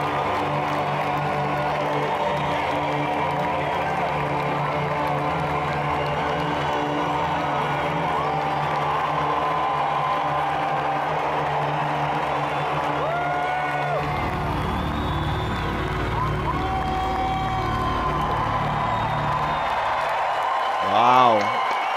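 A large concert crowd in Montreal roars, claps and cheers in a continuous wash of noise for over twenty seconds, with a voice talking over it.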